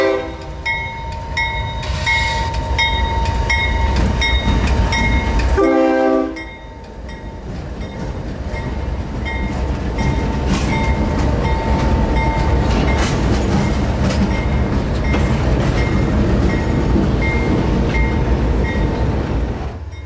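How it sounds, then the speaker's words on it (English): A CSX freight train led by heritage locomotive 5327, painted in Western Maryland Railroad colors, sounds loud horn blasts up close before giving way to a steady, heavy rumble of passing cars. "CSX Heritage / Emblem Unit 5327, displaying the Western Maryland Railroad, is leading today's"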